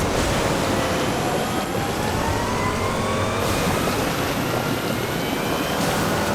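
A vehicle in the MotorStorm Pacific Rift racing game drives through water, with continuous splashing and surf-like hiss over a revving engine that stays loud and unbroken.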